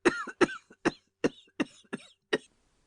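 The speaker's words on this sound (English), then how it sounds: "Her cough choked her" A woman in a dramatic reading of Dostoyevsky's Crime and Punishment coughs in a choking fit of seven harsh, close bursts in quick succession, tapering off, with no other talk.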